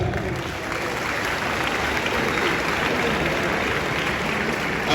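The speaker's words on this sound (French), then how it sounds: "Je voudrais également qu'on puisse applaudir nos ministres" An audience at the fourth summit of the MLC party applauds the ministers and vice-ministers present in the hall, a thick, continuous burst of hand clapping at steady loudness for several seconds, without speech.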